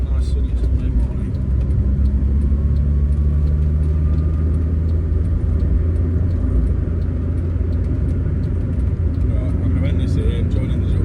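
A Nissan Micra K10 with a freshly stripped carburettor pulls onto a dual carriageway on a sunny morning, its steady engine drone and road rumble filling the cabin continuously and loudly, with a voice speaking over it.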